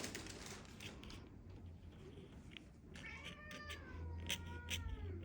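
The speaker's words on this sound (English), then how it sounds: "Please disregard my cats" Pet cats meowing indoors, several drawn-out rising meows in the second half over low background noise, with no talking.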